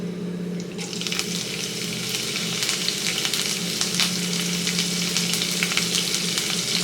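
Cumin and mustard seeds fry in hot oil in a pan, with a dense, steady sizzle and scattered crackles and pops, close by and without talking.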